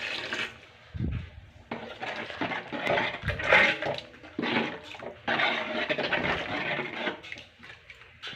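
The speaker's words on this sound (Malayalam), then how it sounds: "നമ്മളിതിലേക്ക് കുറച്ച് വെള്ളം ഒഴിക്കുന്നുണ്ട്." Water is poured into a cooking pot of sambar, a sloshing, splashing pour in uneven bursts with occasional metallic clinks of the pot, close and fairly quiet.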